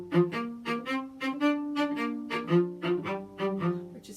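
A solo cello plays a bowing study from Feuillard No. 20 in a lopsided, uneven rhythm, with about a dozen distinct bowed notes that shift between two low pitches, close and fairly quiet.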